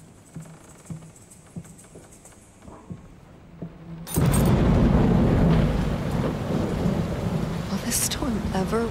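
Rain and thunder in the horror game Layers of Fear: quiet ambience with a faint voice gives way to a loud thunder crash and steady heavy rain that continues for several seconds.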